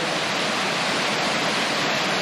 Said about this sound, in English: another waterfall here called the Wagner Waterfall. And you can feel the cool air coming as that water rushes down.